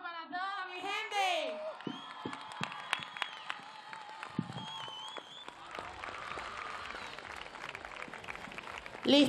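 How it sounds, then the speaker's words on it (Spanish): Audience at a drag queen gala in Telde claps and cheers in a steady, crowded wash with scattered whoops, following a brief stretch of voice at the start. "Un fuerte aplauso para toda mi gente."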